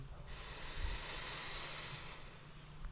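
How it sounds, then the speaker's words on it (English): A slow, steady inhale through the nose during a calm breathing exercise, a soft, close airy hiss lasting about two seconds before fading out. "just start focusing on your breath. Breathing in"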